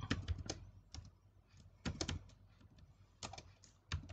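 Keys clacking on a computer keyboard while a C++ program is written, irregular bursts of close taps separated by brief pauses.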